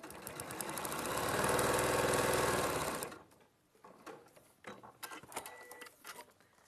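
Sewing machine stitching fabric in a rapid loud mechanical run for about three seconds, then stopping, followed by quieter clicks and handling noises.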